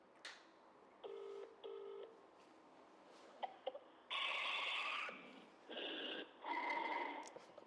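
A phone on speakerphone dials out for a prank call: short keypad tones, then a few louder, longer tones from the line, all fairly faint.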